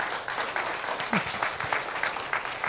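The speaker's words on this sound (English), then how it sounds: "So let's all give them a round of applause." A crowd at a church-style gathering applauds with brisk, continuous clapping, fairly loud and close, with individual claps standing out and no talk over it.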